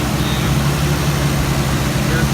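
A turbocharged Lexus IS 300 engine idles steadily with a low, continuous rumble just after its first start, with no talking heard.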